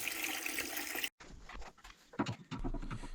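Water splashes and trickles from an opened boiler pressure relief valve into a bucket that already holds rubbish, a steady hiss that breaks off briefly and then resumes with intermittent patters.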